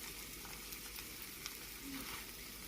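Eggs fry in a pan with a steady, soft sizzle while a utensil stirs them. Faint scraping sounds come through now and then. The sound is close and low in level, with no voices.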